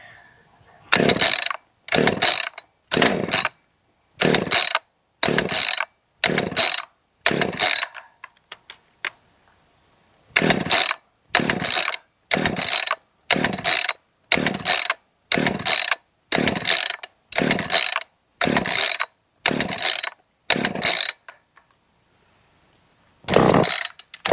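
Husqvarna 545 chainsaw being pull-started with the choke out, a loud close series of about nineteen rapid rope pulls in two bursts split by a short pause, each a sharp ratcheting rasp of the starter without the engine catching.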